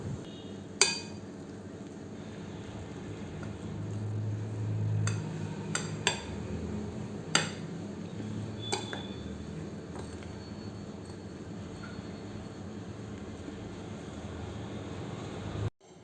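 Ground roasted gram and raisins stirred into pottukadalai laddu flour, heard as sparse, quiet clinks and scrapes of a spoon against a bowl over steady low background hum, with no talking.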